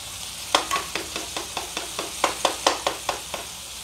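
Garlic and onion sauté in a pan for hot dogs with herbs, heard as a run of about a dozen rhythmic scraping stirs over a soft background sizzle.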